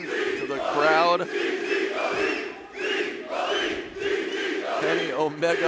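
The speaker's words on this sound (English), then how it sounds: "Listen to the crowd." A wrestling crowd roars and chants in waves, with loud shouting voices rising and falling across the arena and a few individual yells cutting through the mass of cheering.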